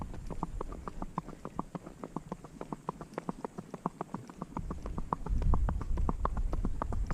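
Rhythmic hoofbeats of a saddle rack horse gaiting on a loose rein toward home, quick even four-beat footfalls close by, steady throughout with faint rustling underneath.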